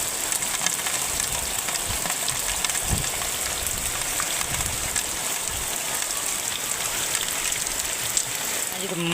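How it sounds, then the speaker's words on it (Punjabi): Heavy rain pours steadily on a mud house and a flooded lane, a dense continuous patter with irregular drips and splashes, with voices faintly beneath. "ਬਹੁਤ ਜ਼ਿਆਦਾ ਬਾਰਿਸ਼ ਹੁੰਦੀ"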